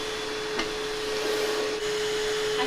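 A Bissell Little Green ProHeat portable carpet cleaner runs close by with a loud, steady motor whine and a constant airy roar, unbroken by talk.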